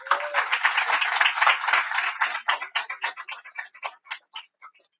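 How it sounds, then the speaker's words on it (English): Audience applause at a morning session of a CUNY Black Male Initiative conference, a loud burst of clapping that thins into scattered individual claps and fades out over a few seconds. "please let us give a rousing applause to Miss Cheryl Wills"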